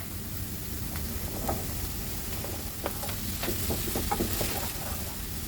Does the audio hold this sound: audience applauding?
no